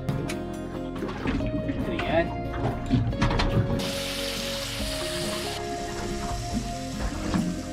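Skin-on snapper fillet frying on a gas cooker outdoors on a boat camping trip, a steady close sizzle beneath someone talking, with a low engine-like hum underneath.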